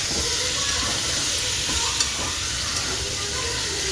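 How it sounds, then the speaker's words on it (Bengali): Pointed gourd frying in a pan, a dense, loud, continuous sizzle and hiss up close with faint stirring underneath; no talk. "এখানে পটল ভাজা হচ্ছে, তরকারি লাল লাল করে ভাজবে"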